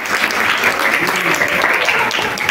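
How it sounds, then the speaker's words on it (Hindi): Loud, dense applause from a crowd at a paramedical institute convocation ceremony, steady continuous clapping filling the whole stretch. "तालियों की आवाज तो निकम थी"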